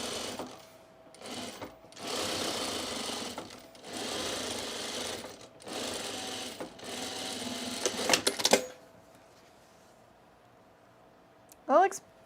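Sewing machine stitching a pair of partner overalls in bursts of steady whirring, with short pauses between runs, followed by a quieter stretch and a brief clatter near the end; speech also occurs.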